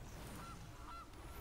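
Two short, faint honks from the goose card in Magic: The Gathering Arena, spaced about half a second apart over a low rumbling background.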